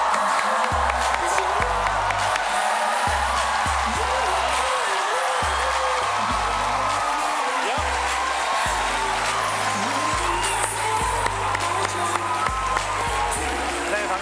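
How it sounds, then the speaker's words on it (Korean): Studio audience on a KBS comedy-magic show clapping and cheering steadily as a guest is welcomed, with a low musical beat and a presenter's voice over the noise. "큰 박수 주세요."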